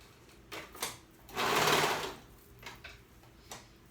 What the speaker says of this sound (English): I'm gonna start at the seam, and I'm just gonna sew those layers together.